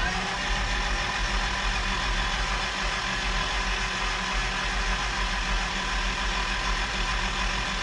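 A 1997 Toyota Tacoma's 2RZ-FE engine, rebuilt after an oil pump failure, cranks on its starter with a loud, steady mechanical whirring drone that runs unbroken for about eight seconds, with no voices.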